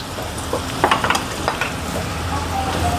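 Stuffed bitter gourd and leftover masala sautéing in a pan, a steady frying hiss under a few quick spatula scrapes and knocks, close and fairly loud, no talk.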